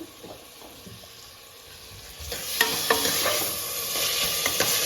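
Onions and spices sautéing in a pan for a home-cooked mutton curry: a soft sizzle with faint background water sounds, then louder scraping and stirring strokes that come in irregular bursts over the frying.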